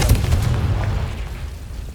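A Confringo explosive spell goes off in Hogwarts Legacy, a deep booming blast with a strong low thump at the start that rumbles and fades over about two seconds.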